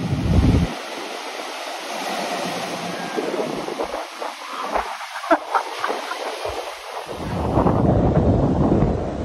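Strong wind at Maroubra beach in Australia buffets the microphone in loud, gusting rumbles over a backdrop of surf, swelling at the start and again near the end, with no talking.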